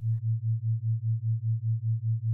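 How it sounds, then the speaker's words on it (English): Two slightly detuned sine waves drawing patterns on an oscilloscope, a steady low pure tone pulsing evenly about five times a second as the waves drift in and out of phase. "Detuning just a little bit puts the curve in motion, with sine waves going in and out of phase."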